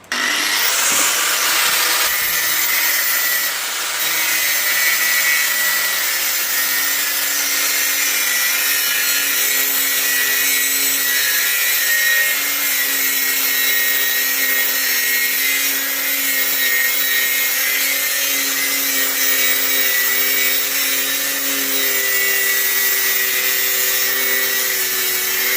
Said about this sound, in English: I'm literally machining off the thickness of the cutting disc as it goes down